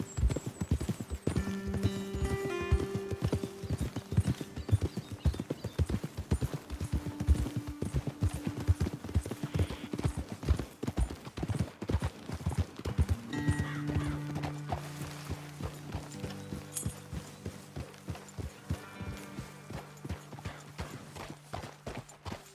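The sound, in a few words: horses trotting in the video game Red Dead Redemption 2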